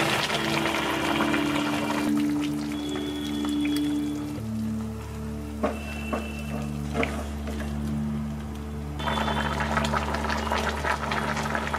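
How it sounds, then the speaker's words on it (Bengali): Coconut milk is poured into a simmering cauliflower malai curry in a pot, a steady liquid rush and bubbling that goes on for several seconds, with a low hum underneath. "তো এবার যাবে নারকেলের দুধ।"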